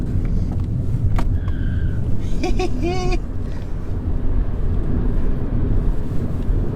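A 2020 MINI Electric launches hard from a standstill: steady road and wind roar fills the cabin, with a brief rising electric-motor whine early on that then fades under the continuous rumble.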